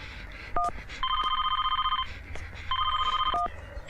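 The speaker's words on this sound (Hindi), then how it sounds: "AD pick up the phone" A telephone rings in a scene of a Hindi Bollywood film: a short electronic chirp, then two long trilling bursts of ringing separated by a pause, fairly loud and close, with no talking over them.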